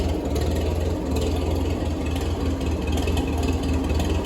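Grey Fergy tractor with a Howard rotary hoe attached, its engine running at a steady, loud, even chug with a low throbbing pulse and no voices over it.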